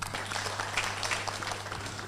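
An audience at a tourist guide assessors' launch event gives a hearty round of clapping, a dense steady patter in a room over a low constant hum.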